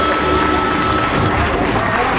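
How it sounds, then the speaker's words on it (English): Wedding reception guests clap and cheer in a dense, continuous wash of applause that fills the room from start to finish, loud and close, with murmured voices mixed in. "once again, how about a nice round of applause?"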